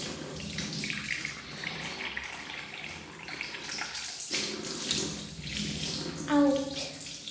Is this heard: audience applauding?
no